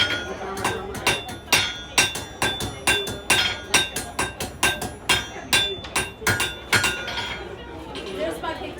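Blacksmith hammering hot metal on the edge of an anvil at a Renaissance festival demonstration: about twenty ringing blows land in a steady, fairly quick rhythm close by, with faint crowd murmur underneath.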